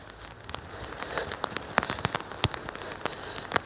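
Rain pattering steadily in a graveyard, with many close, sharp drops striking surfaces in an irregular, continuous patter and no voices.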